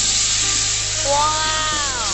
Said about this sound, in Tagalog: Ito na yung gata ng niyo guys, ilalagay na natin.